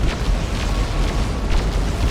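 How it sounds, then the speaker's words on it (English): Eldar nuke detonating in Dawn of War 2, Imperial Guard against Eldar, heard as a sustained, loud, roaring blast with rumbling low end and crackling bursts throughout, no voices. "The nuke from the Eldar doesn't quite finish off the Lord General."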